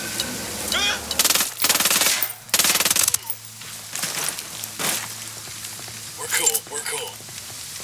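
Bursts of submachine gun fire from a narco at a sandbag emplacement in the video game Ghost Recon Wildlands, several loud sustained volleys with single shots and game sounds between them.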